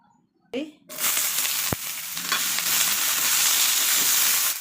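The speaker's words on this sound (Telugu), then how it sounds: "ఆయిల్ వేడయ్యాక కట్ చేసుకున్న టమాటా ముక్కల్ని" Cut green tomato pieces drop into hot oil in a pan and erupt into a loud, steady sizzle and frying hiss after a brief quiet start and a sharp clatter.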